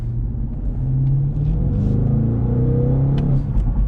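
BMW M850i xDrive with its engine accelerating hard, a steady loud low rumble and rising engine drone heard from inside the car, with no talking.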